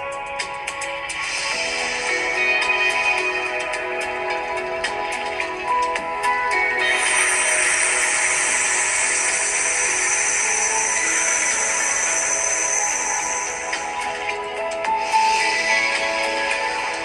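Slow, deep breaths drawn in through the nose and let out through the mouth, each long airy inhale and exhale close and clear, with no talking over them.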